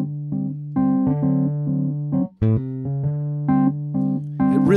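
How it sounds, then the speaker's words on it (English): Piano comping with rhythmic suspended tritone shell chords, sustained harmonic stacks struck in a repeating syncopated pattern with a short break near the middle, played alone and fairly loud. "turn this into a real nice rhythmic comp chord like this"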